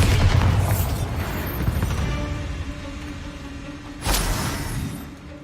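A Bombarda spell blast in the Hogwarts Legacy video game, a heavy booming explosion with a rumbling tail, then a second burst a few seconds later amid game sound.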